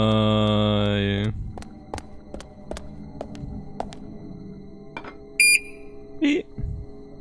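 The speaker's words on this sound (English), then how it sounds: "Anche il beep è molesto, tutto l'audio di sto gioco è molesto." Short electronic beeps from the video game Deadly Premonition, a couple of quick high tones near the end after a loud sustained tone and a stretch of low game ambience and faint ticking.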